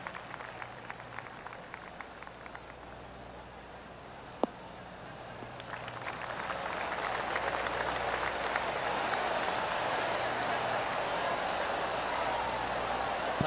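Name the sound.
golf crowd applause in PGA Tour 2K23 video game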